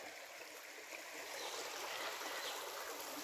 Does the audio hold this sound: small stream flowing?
yes